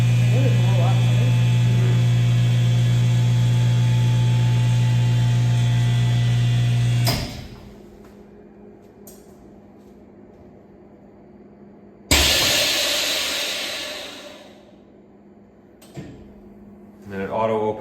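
A vacuum sealer pulls air from a bag of freshly prepped vegetables pressed over its heat pad: a steady, close motor hum runs for several seconds, then cuts off, followed by a sharp burst of hiss as the pressure releases.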